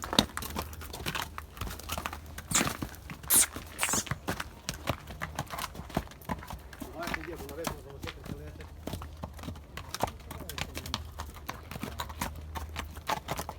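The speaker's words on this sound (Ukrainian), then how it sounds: "Кобила з лошаком. Кінь такий непоганий." Horse hooves, a mare with a foal among them, clip-clop in an irregular, uneven pattern of sharp knocks on hard ground, with crunching and rustling around them and some faint talk.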